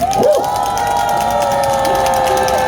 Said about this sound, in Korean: 우리 변호사님께 박수 한번 주세요